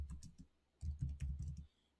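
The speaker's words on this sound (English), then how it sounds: "I just hit the wrong keyboard combination" Quick bursts of computer keyboard typing, a few clicks, a short pause, then a rapid cluster of key presses nearby before stopping.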